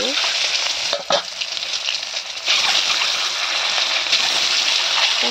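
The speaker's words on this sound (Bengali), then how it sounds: "এখন আমি একে একে ডিমগুলিকে দিয়ে দিব" Eggs hit a hot pan and fry, with a close, steady, loud sizzle broken by a few brief clatters of stirring or handling, and no voices.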